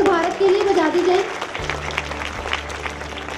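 Applause and cheering from a school audience at a branch inauguration rise after a voice, then settle into a steadier clapping with a low hum underneath.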